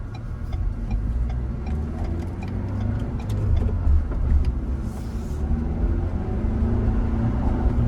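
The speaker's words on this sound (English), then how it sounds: "A little bit of turbo noise." A small Ford Bronco SUV's turbocharged engine hums steadily from inside the cabin, with a low rumble building gradually and faint ticking and turbo noise above, suggesting gentle acceleration.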